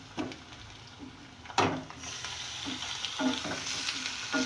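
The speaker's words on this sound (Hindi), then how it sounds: "ये प्याज हल्की सी पिंक कलर की हो गई है, तो अब मैं इसमें ये गोश्त डाल दूँगी।" Beef pieces frying with onions in a pot for a masala curry, a steady sizzle with a few sharper bursts and stirring scrapes, close and fairly loud with no talk.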